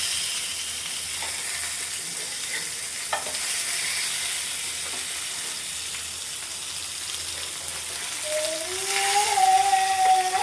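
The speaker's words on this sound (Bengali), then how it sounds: "আর এখানে মাছ ভাজা হচ্ছে" Fish fries in a pan in a home kitchen with a steady, close sizzle and crackle of oil that holds for the whole stretch, and a brief tonal whine rises near the end.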